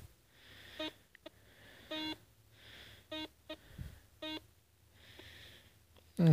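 Metal detector tone beeps during a ground test with a Solfernus v2.6 or Garrett Euro Ace, about six short, evenly spaced electronic pulses over a quiet background, with faint handling noise.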